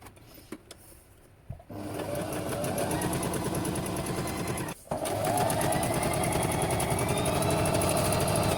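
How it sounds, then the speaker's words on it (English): Juki HZL-355Z sewing machine running a straight stitch at 2.5 mm: after a few quiet clicks it starts into a steady, fast mechanical whir and rapid needle clatter, close up, with one brief pause before resuming. "so we shall start sewing."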